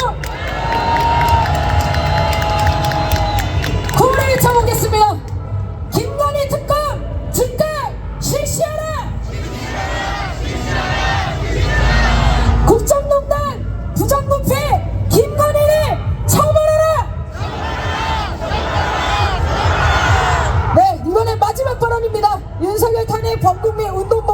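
A crowd cheers and shouts with bursts of clapping, mixed with loud amplified speech and whoops, lively and sustained throughout.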